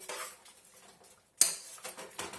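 A spoon stirring Nigerian Osiki Egusi soup in a pot, giving a few close metallic clinks and scrapes with a sharp knock in the middle, fairly quiet, with no talking.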